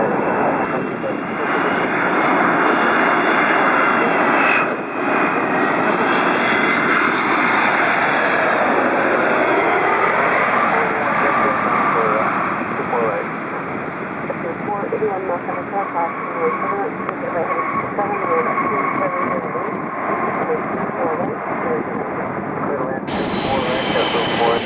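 United Airlines Boeing 777-222 jet departing LAX, a loud, sustained engine roar that swells and slowly changes pitch over the whole span, with airport background noise throughout.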